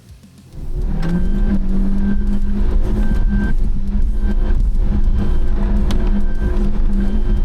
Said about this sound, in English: It's a long, steep, slippery, rut-laden climb that will strain the engine and test traction to the fullest.